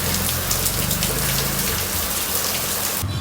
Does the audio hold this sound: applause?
no